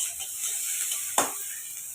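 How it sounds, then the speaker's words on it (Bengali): Onions frying in a pan with only a little oil, a steady soft sizzle with a brief louder stir or scrape of the pan partway through. "এই যে পেঁয়াজটা কিন্তু আমার লাল লাল করে ভাজা হয়েও গেছে"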